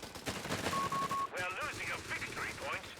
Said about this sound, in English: has added on a Grenadier into heavy machine gun into Grenadier